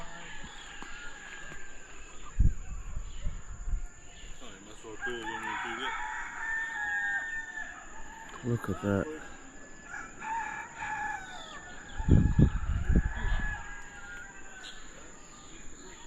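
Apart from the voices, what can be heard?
roosters crowing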